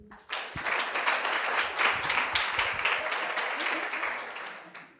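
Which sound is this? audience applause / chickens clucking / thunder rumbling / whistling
audience applause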